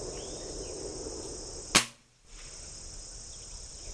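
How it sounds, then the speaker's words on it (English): A single sharp air rifle shot fired over a chronograph with 7.4 grain pellets, loud and close, with a quick decay into a brief silence against a steady background hiss. "So I'm going to take some shots over the chronograph first."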